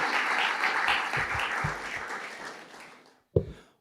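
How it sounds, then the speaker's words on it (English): Audience applause after a reading at a poetry event, with a dense wash of clapping that slowly tapers, stops, then breaks out again in one final brief burst. "One more round of applause for Alexandra Oliver, reading from Hail, The Invisible Watchman."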